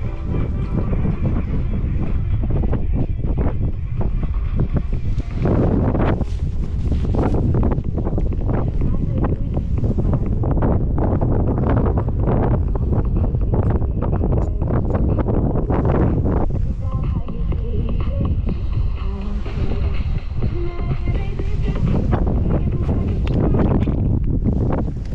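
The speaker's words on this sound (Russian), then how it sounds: "Нас приветствует ветер." Strong wind buffets the microphone in a steady, loud roar that runs throughout, with rumbling gusts and faint voices underneath, up high near Ordzhonikidze and Feodosia, Crimea, in May.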